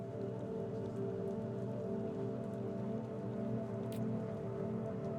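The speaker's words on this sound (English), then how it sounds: "This fucking rain is flooding our neighborhood." Steady rain pours down in a flooding neighborhood, a dense, continuous hiss of drops hitting surfaces at close range, with no voices.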